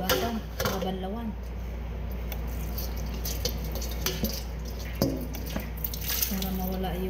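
Squeezed, salted shredded papaya gets rinsed in a basin of water for atsara, with soft sloshing, drips and small splashes under a low steady hum, while a person talks over it.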